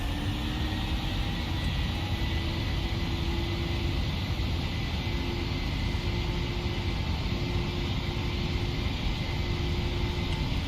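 Boeing 737-800 takeoff roll in the Prepar3d flight simulator, a loud, steady broadband engine roar with a constant whine running alone the whole time, no voices.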